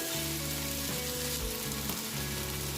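Tomatoes sizzle and fry with sautéed onions in a hot pan for fish biryani, a loud, steady, close crackling hiss filling the whole moment with slight shifts as the mix is stirred.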